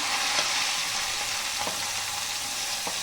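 Onion and curry leaves sizzle steadily in hot oil for sambar, a loud, close, continuous frying hiss broken by a few short stirring scrapes.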